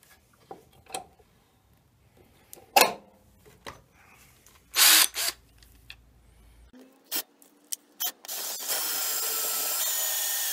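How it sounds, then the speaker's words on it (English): Intermittent bursts of a power sander working against a wood surface, with scraping and knocks, ending in a steady sustained buzzing grind. "Always sanding and smoothing the surface."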